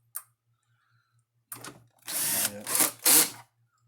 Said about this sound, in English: Now we'll put our screws in it.